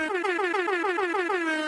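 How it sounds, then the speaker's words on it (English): Air horn sound effect from a soundboard on a hockey talk show, a loud blaring horn with pulsing repeated blasts sounding continuously, alone without talk. "The air horn effect."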